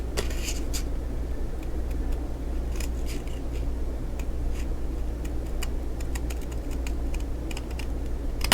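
Scissors cutting paper for a handmade mini album, a steady run of small crisp snips and rustles close by, repeating through the whole stretch with no talk.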